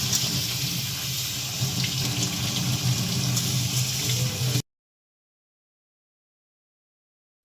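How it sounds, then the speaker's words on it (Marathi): Steady running tap water splashing over wheat grains being washed in a sink for about four and a half seconds, close and fairly loud, then silence. "चार पाण्याने मस्त नळाखाली स्वच्छ गहू धुवून घ्यायचे"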